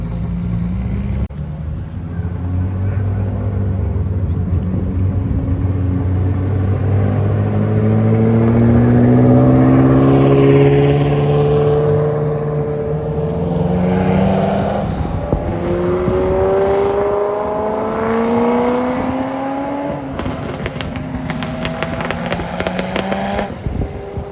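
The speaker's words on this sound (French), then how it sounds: "À gauche, c'est échappement libre et à droite, c'est d'origine. La différence de son, elle est incroyable." A sports car revs loudly up close in a Paris street. Rising and falling engine notes swell and roar for several seconds, comparing an open exhaust with a stock one, then trail off with crackling pops.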